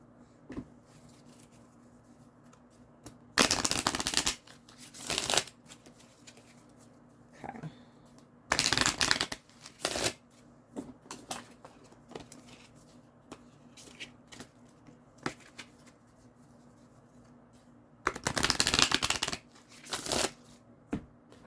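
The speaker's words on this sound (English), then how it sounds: "we will shuffle these decks back up" Tarot cards are shuffled in several loud, rapid bursts separated by quieter pauses with small handling sounds, close to the listener.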